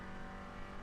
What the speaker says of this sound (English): there's the Mercedes going past the pits